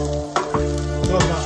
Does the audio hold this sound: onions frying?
yes